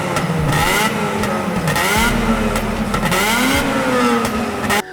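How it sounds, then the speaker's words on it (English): A decatted Mazda RX-8 engine revving up and down loudly close by, with sharp crackles and pops from the exhaust between the revs. "I decatted my car, but for scientific reasons, to spit flames and to make pops and bangs."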